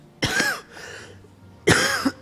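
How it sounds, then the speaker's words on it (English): A person's coughing fit: two loud, harsh bursts of coughing close to the mic, separated by a short quieter breathy pause, with no talking. "I still have some coughing fits."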